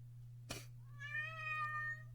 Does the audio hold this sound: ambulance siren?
no